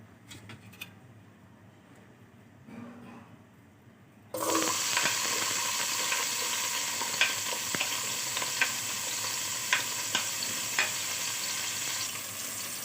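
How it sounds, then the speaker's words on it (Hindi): Onions drop into hot oil and burst into a loud, steady sizzle after a few quiet seconds, with scattered sharp crackles and stirring clicks continuing close by, no talking. "ऑयल को गर्म करने के बाद हमने इसके अंदर जो है ना"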